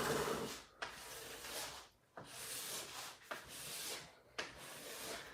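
Scraper dragged over freshly hot-waxed snowboard base, a Capita Mercury 2025, in repeated long strokes with brief pauses between, close and fairly quiet with a dry rasping texture.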